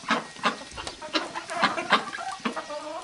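Chickens cluck close by on a small farm where ducks are also kept, a run of short, uneven clucks and soft calls overlapping for about three seconds.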